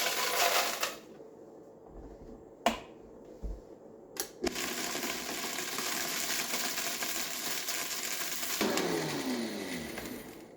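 An electric grinder powders dehydrated garlic, starting with a few sharp knocks and then running as a steady loud whirring grind, close by with no talk.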